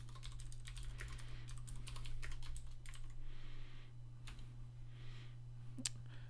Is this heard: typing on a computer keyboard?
yes